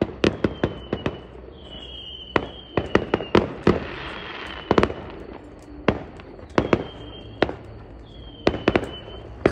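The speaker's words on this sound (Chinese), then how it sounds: "然后外面看着烟花呀" Fireworks go off outdoors in a rapid, irregular series of sharp cracks and bangs, some with thin whistling streaks between them, heard at a moderate distance with nobody talking.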